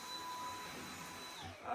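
Vacuum cleaner runs upstairs in a home as a steady, faint whine and hum, muffled and distant, unchanging throughout.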